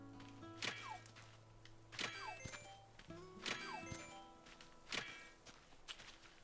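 A tool striking a rock in the Animal Crossing: New Horizons video game: four evenly spaced thunking hits, each followed by a bright chiming jingle, over soft background game music.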